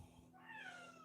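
A single house cat meows once, a drawn-out rising then falling call that starts softly and swells to a clear, fairly close cry lasting about half a second, with a faint low hum beneath and no talking.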